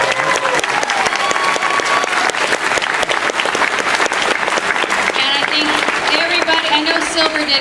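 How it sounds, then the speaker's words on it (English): A convention crowd at BronyCan 2014 gives a big round of applause, dense steady clapping with cheers, while voices talk and call out over it. "Big round of applause"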